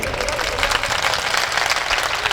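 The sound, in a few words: audience applause at a mushaira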